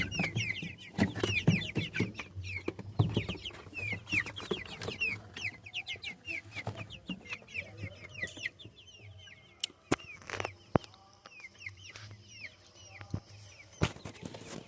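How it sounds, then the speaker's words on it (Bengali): A crowd of hens cluck and squawk continuously on a poultry farm, dense overlapping calls with occasional sharp clatters and knocks, near and lively. "তা দেখতে পাচ্ছ কত মুরগি।"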